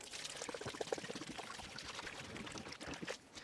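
Water mixed with fertilizer pours into a 10 by 20 seedling tray, a faint continuous splashing and trickling that goes on for several seconds.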